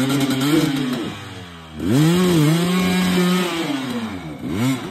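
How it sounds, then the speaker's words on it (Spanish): A hard enduro dirt bike engine revs hard in repeated rising and falling bursts, loud and close, with a brief dip before climbing again through high-pitched wails. "¡Mete la moto hacia ti,"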